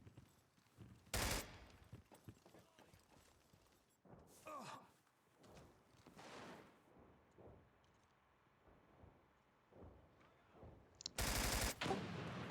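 Bursts of gunfire in a tactical shooter match at a tournament grand final: two loud, dense volleys near the start and end, with quieter shots and game sounds between them and some talk.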